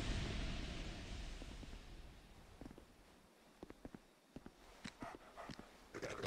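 A dog in the video game Dark Souls II growls and moves amid scattered thuds and footstep-like impacts, faint against background game ambience.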